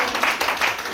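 Wedding guests clap in a brief, lively burst of applause, with overlapping hand claps and a hint of cheering voices close by.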